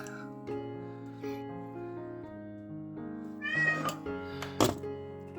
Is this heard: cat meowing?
yes